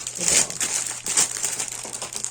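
Plastic packaging crinkles and rustles in short bursts as items are handled up close, with no talking.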